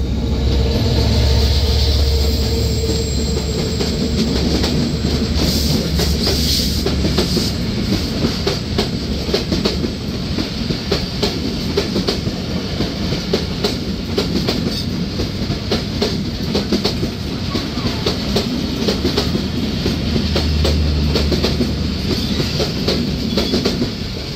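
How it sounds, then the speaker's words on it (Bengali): The Panchagarh-bound Banglabandha Express runs through behind an American giant locomotive. It passes close and loud with a heavy rumble and a continuous rhythmic clickety-clack of wheels over rail joints, and no one speaks. "এই মুহূর্তে থ্রুপাস করে যাবে পঞ্চগড়গামী বাংলাবান্ধা এক্সপ্রেস আমেরিকান জায়ান্ট লোকোমোটিভের সাথে পিটি ইনকা 7-1"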